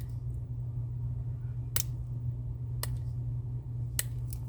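Scissors snipping at hard cured Lightwish UV resin, three sharp isolated clicks spaced about a second apart over a steady low hum.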